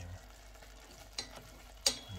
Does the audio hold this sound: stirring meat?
yes